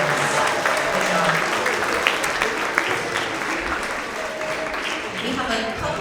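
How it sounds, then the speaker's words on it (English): Students, staff and families applauding outstanding readers at a grade 6–8 school award assembly, a loud, sustained round of many hands clapping in a large room, with crowd voices murmuring beneath it. "let's have another round of applause for all of our outstanding readers"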